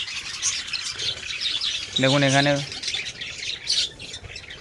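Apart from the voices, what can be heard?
budgerigar colony chirping and squawking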